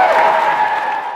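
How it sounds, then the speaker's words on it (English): An audience applauds the 2015 Posse Scholars with a steady wash of clapping from many hands, moderately loud and sustained across this short moment. "Let's give a big round of applause to the 2015 Posse Scholars"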